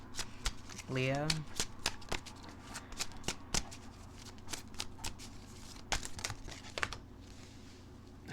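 Tarot cards being shuffled close by, soft rapid riffling and papery flicks in irregular bursts, with someone speaking briefly at the start.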